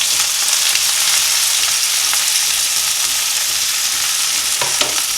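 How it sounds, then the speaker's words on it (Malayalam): Chopped onion and green chilli sizzle steadily in hot oil in a pan, a loud continuous frying hiss with a few faint stirring scrapes and no talking. "എണ്ണ ചൂടായി കഴിഞ്ഞ ഉടനെ നമ്മളെടുത്ത് വെച്ച സവോള ആൻഡ് പച്ചമുളക് ഇട്ടങ്ങ് വരട്ടുക"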